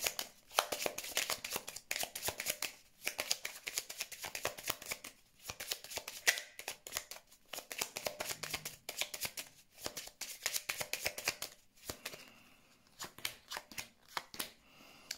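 Tarot cards being shuffled and dealt out, a steady run of soft riffling flutters and light slaps, close and fairly quiet, with short pauses between bursts and no talking.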